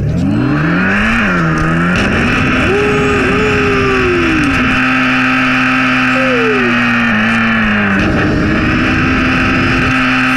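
A car engine in a video game drones steadily throughout, its pitch rising and falling as it revs and shifts, loud and close.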